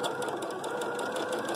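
A sewing machine fitted with a quarter-inch foot stitches quilt pieces in a close, steady rapid whirring hum with fine rhythmic needle clatter, no voices.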